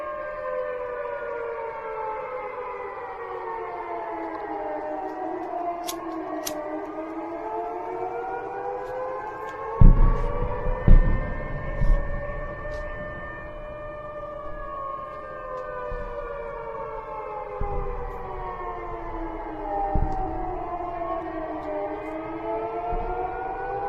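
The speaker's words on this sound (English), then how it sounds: "hearing these sirens going off late at night when you're about to go to bed" Civil defense air raid sirens wail at night in Belgorod, rising and falling in long slow cycles, with several sirens overlapping from a distance, and a few dull thumps underneath.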